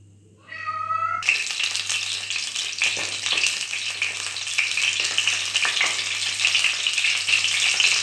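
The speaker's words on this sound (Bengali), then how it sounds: "সর্ষের তেল গরম হয়ে আসলে এর মধ্যে আমরা দেব ম্যারিনেট করা যে বেগুনগুলো আমরা রেখেছিলাম" Marinated eggplant pieces drop into hot mustard oil and burst into loud, dense, continuous sizzling with crackles, after a brief meow-like squeal just before the frying starts.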